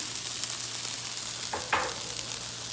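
Minced garlic sizzles in hot olive oil with a constant soft hiss, and a brief scraping stir rises out of it near the middle.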